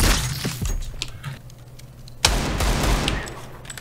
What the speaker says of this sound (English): Who's shooting me from behind?